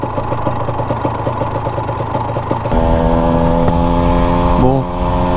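A Honda NSR motorcycle, a two-stroke fitted with a Malossi 180 kit and VHM cylinder head, idles with a steady rumble near the microphone, then settles into a louder, even drone with a brief blip of revs near the end.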